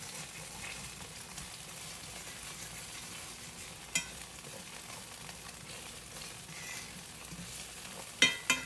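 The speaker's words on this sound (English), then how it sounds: "I'm going to scrape that off the bottom" Fork scraping the bottom of a hot skillet while food fries and sizzles steadily, with a few sharp metallic scrapes near the end and no voices.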